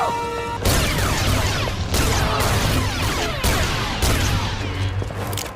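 Blaster fire in a Star Wars Ahsoka episode: loud, rapid bursts of zapping shots with sweeping laser tones, repeating in dense volleys over a crashing action mix.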